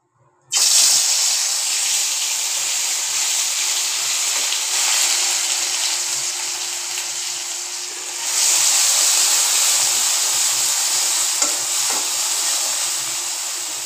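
Ground spices, including garam masala and ground peanuts, hit hot oil and fry with a sudden loud sizzle that keeps up as a steady hiss, swelling again partway through with faint stirring clinks.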